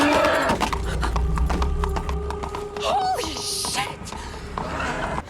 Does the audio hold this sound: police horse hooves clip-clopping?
yes